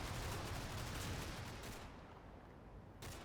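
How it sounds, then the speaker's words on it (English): Mortar shells landing in a war video game, a dense rumbling barrage of blasts and crackling impacts that fills most of the stretch, dropping briefly before another burst at the end. "Yeah, definitely still mortars coming in there"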